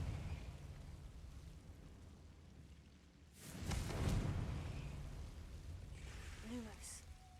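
A Confringo fire spell from Hogwarts Legacy erupts with a loud, broad blast midway through, then rumbles on under a crackling fiery hiss, preceded by a low game ambience; a voice calls out the spell.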